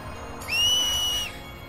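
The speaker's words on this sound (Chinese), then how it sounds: "哦，吹口哨了。" A whistle in the video game Final Fantasy X: one clear, rising and then steady whistle tone lasting under a second, loud and close over a quiet game background.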